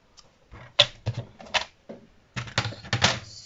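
Card stock being scored for a Halloween swing card, heard as a series of close, sharp scraping and clicking strokes in irregular bursts, with a longer run of scoring near the end and no talk.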